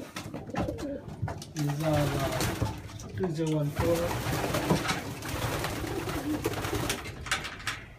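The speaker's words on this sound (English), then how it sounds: "This is my 2015 young birds in my newly built young bird loft." Young racing pigeons coo in a newly built young-bird loft, with repeated soft, throaty calls overlapping near the listener while someone talks over them.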